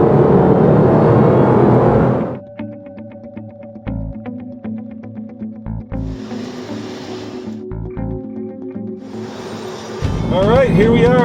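A Ford Mustang muscle car in a road tunnel: a loud booming engine roar at the start, then quieter rumbling with sharp pops and bursts, ending with another loud surge.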